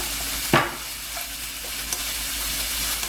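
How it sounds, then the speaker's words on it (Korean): Beef stir-frying in a pan over high heat with black pepper and a spoonful of sugar, a steady close sizzle with one sharp louder hiss burst near the start, no talking. "고기에다가 설탕을 한 스푼 넣어서 고기 연하게 해서 볶으겠습니다"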